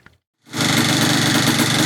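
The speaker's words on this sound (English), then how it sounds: "Pulled the choke, kicked it 3 times, fired right up." A nearly 40-year-old Yamaha IT175 vintage enduro dirt bike, with the carb freshly fitted and choke pulled, bursts into life after a brief silence and runs loud and steady at close range.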